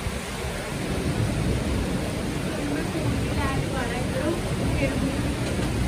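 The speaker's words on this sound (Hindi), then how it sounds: "बारिश की आवाज़ तो जरूर आ रही होगी।" Heavy rain pours during a nighttime storm in Kasauli, Himachal, as a loud, steady hiss with a low rumble of thunder underneath throughout, while a person speaks over it.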